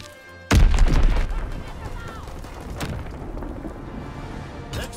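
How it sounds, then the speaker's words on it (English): A Fritz X guided bomb strike in a World War II shooter game: a sudden heavy boom followed by a long rumbling decay, with a second thud later and a sharp crack near the end, mixed with faint game chatter. "Dropping Fritz X bomb. Enemy bomb incoming."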